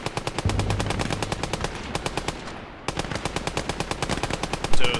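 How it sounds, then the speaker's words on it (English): Sustained machine gun fire from an MG nest in the WWII video game Gates of Hell, rapid bursts of evenly spaced shots with a brief pause midway, loud and close, no talking. "There is an MG pinning our boys down."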